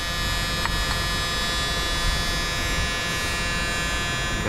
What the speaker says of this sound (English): Got it sanded to go on the frame tube.